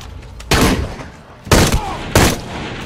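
Enemy soldiers fire in Shadow of the Tomb Raider, three loud sharp bursts of gunfire spaced about a second apart.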